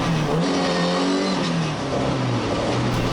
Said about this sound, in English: Just sort of first gear, just dropping the clutch to get a bit of heat through those rear tyres